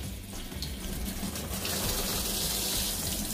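Water runs steadily from a faucet through an anti-splash shower-style extension, a continuous close hiss and gush with no break and no talking.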